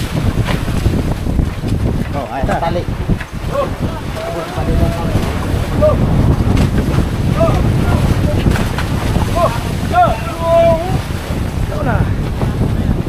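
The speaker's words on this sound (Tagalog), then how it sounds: "malaki-laki po ang alon ngayon" Big sea waves and strong wind surround a small fishing boat, a steady loud rush of wind and water with microphone buffeting throughout, while people talk briefly over it.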